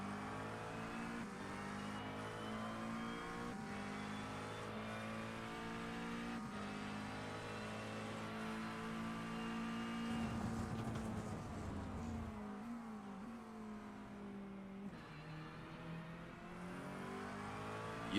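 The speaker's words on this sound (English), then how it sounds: "Using that engine to slow himself down all the way to first gear to get some engine braking done there" A GT3 race car in a racing game downshifts all the way to first gear for engine braking, its engine note stepping up and down in harmonic sweeps, close and steady throughout.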